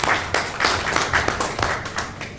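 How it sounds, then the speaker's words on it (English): A small audience at a mayor's weekly briefing giving a round of applause, sparse individual claps at a quick uneven rhythm, fairly close and brief. "Let's give that a round of applause."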